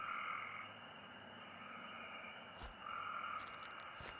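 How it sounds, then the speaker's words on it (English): Frogs croak in a looping chorus in the horror hunting game Uktena 64, set in an old abandoned township; faint, steady calls over quiet ambient hum, with a couple of soft thumps near the end. "it sounds like I'm hunting frogs"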